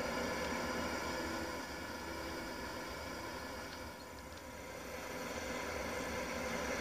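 A tractor engine in Farming Simulator 19 drones steadily and loudly throughout, a dense rumbling idle with a slight dip in level midway, no talk over it.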